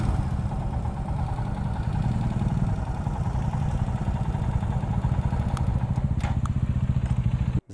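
A motorcycle engine idles close by as bikes are parked at night near Betalbatim beach, a steady, loud, rumbling chug with clattering texture, then cut off abruptly at the end.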